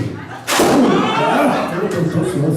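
A balloon bursts with a sudden loud pop after a quieter moment at a wedding party game, followed by lively voices and crowd noise carrying on.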